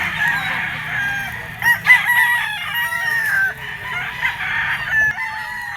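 A bull stag rooster crows loudly and clucks at a poultry market selling fighting cocks, several close crows and clucks over a steady background murmur of the crowd.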